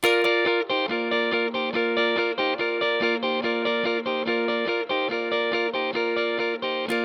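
Steady, even guitar strumming on one bright chord, lifting the fretted fingers off to let open strings ring, repeated in a quick regular rhythm throughout, close and clear with no voices.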